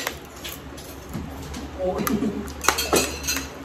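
Spoons and forks clink against plates and a pot while people eat cheesy, spicy beef kaldereta, with light scattered clatters under lively talk.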